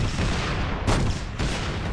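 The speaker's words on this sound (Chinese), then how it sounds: "我拿榴弹枪轰你" Grenade launcher explosions in the online shooter Nizhan's mecha battle mode come as dense, booming blasts, with two sharper bursts close together over continuous rumbling game noise.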